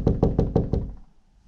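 Five firm knocks land on a neighbour's front door in a quick even run, close and sharp, then fade into a quiet room.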